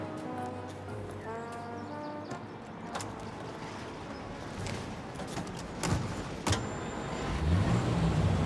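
A car driving in Mafia: Definitive Edition, its engine humming steadily with a gear-change whine early on, a few sharp clicks and knocks along the way, and birds and street ambience around it.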